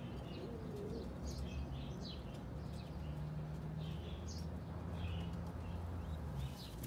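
Pigeons on a rooftop loft coo softly and repeatedly, with scattered chirps and light wing sounds over a low background hum, fairly faint and distant.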